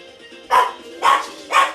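Three loud, close dog barks come in separate bursts about half a second apart, with quiet room hum between them.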